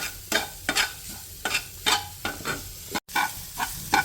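Grated coconut roasting in ghee in a pan is stirred in repeated scraping strokes, each stroke bringing a short burst of sizzle with quieter frying between, close and fairly soft with no talking.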